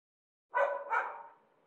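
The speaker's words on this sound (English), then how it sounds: "I have some dogs barking in the distance." Dogs barking outside a window, recorded from a distance: two quick muffled barks that trail off into a soft, fading tail against otherwise silent surroundings.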